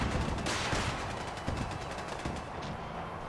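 Turret and settler gunfire during a settlement battle in Fallout 4, rapid bursts of shots crackling over a dense, continuous layer of combat noise, steady and fairly loud throughout.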